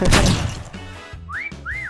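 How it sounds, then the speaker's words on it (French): Whistles in the video game Meccha Chameleon: two rising-and-falling whistle tones sound late in the clip over in-game thumps and clatter, loud and close, with no talking. "tu m'as sifflé dans l'oreille là"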